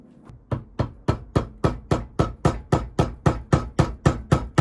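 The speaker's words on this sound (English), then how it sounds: "We'll try chipping it off with a screwdriver." A screwdriver chipping at welded-on metal while building an engine connecting rod, a steady run of about fifteen sharp, evenly spaced metallic taps, close and alone.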